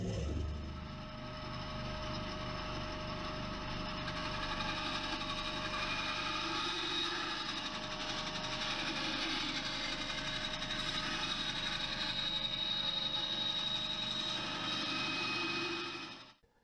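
An aluminium PCB holder rail, a 1000mm length being cut down, is sawn with a steady, grinding mechanical whir that runs close and fairly quiet for about sixteen seconds before stopping abruptly.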